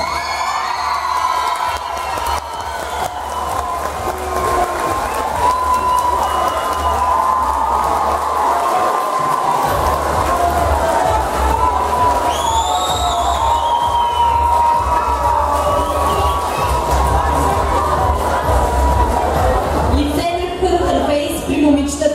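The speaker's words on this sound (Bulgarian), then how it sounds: "Аплодисменти!" Crowd cheering and applauding at a school beauty pageant award ceremony, a loud sustained roar of claps, shouts and whoops filling the room, with a voice talking over it near the end.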